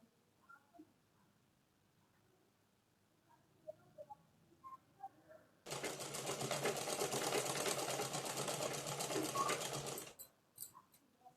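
Sewing machine stitching a blouse made from old clothes, a steady close whirring run of about four seconds after quiet handling clicks, then stopping with a few light taps.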